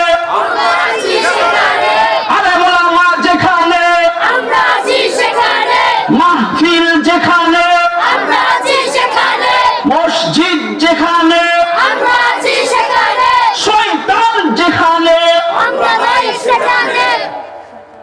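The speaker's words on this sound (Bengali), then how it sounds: "এবার স্লোগান ধরেন আমার সাথে" A large crowd at a religious gathering chants slogans in loud unison, rhythmic waves of voices answering a leader, sustained and close for most of the stretch before fading at the end.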